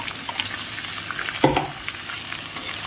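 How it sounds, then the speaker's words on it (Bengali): Chopped onions frying over a low flame in a pan while cooking mutton kosha, a steady close sizzle with a brief louder stir or clatter midway. "দিয়ে এটা এবার আমি ভেজে নেব।"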